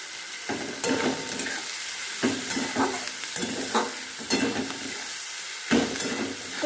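Onions frying over a high flame while a spatula stirs them, a steady loud sizzle broken by repeated scraping strokes against the pan, close and with no voices.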